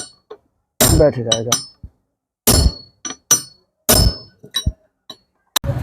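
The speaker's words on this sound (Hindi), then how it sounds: "इस पर चोट मारेंगे गजल पिन की सहायता से, आराम से" Sharp metal hammer strikes drive a pin to seat the gear of an angle grinder during a bearing repair, coming in spaced single blows and short clusters, close and loud, with someone speaking between them.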